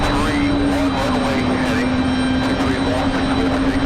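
A Southwest Boeing 737 MAX 8 jet takes off on a windy day at Raleigh-Durham International, its engines a steady loud roar with a sustained low whine that holds throughout, with wind noise mixed in.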